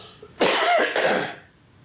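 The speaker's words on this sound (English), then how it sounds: "I've got a long-term cough." A man with a long-term cough from former smoking lets out a single loud, close, raspy cough that trails off.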